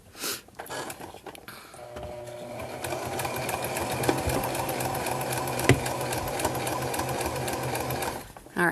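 A sewing machine runs a continuous quilting line, its needle buzzing in a steady rapid rhythm close by for several seconds before stopping abruptly.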